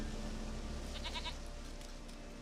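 A goat in The Witcher 3 video game gives a short, wavering bleat of a few quick pulses, fairly faint against a quiet steady background.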